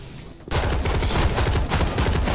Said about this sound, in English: All just start shooting.